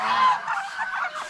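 Farm-raised ducks give a short run of loud, nasal honking calls, close by and lasting just over a second, with no voices.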